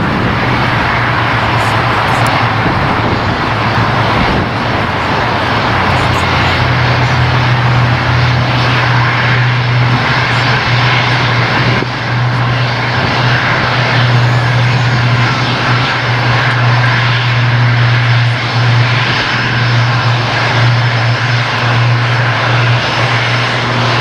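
An airplane at LAX Los Angeles International Airport roars loudly and steadily for the whole stretch, a dense engine drone with a strong low hum that holds close and unbroken.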